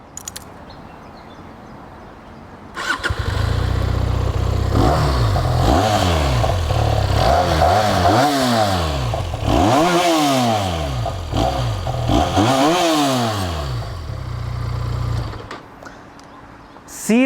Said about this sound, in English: And here is the exhaust note of the SRK.